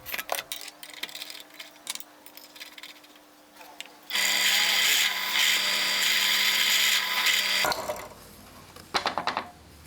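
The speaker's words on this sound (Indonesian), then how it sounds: "Untuk countersink ini saya menggunakan Forstner bit." Power drill boring a countersink in wood with a Forstner bit, starting with scattered handling clatter, then a loud, steady whine for about four seconds before stopping, followed by a few light knocks.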